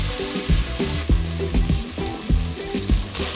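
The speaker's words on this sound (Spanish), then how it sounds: "Los doramos a fuego medio por aproximadamente 5 minutos hasta que tomen un hermoso color dorado." Chicken pieces browning in oil in a pot over medium heat for a Peruvian cauliflower and chicken stew, with a continuous frying hiss alongside background music.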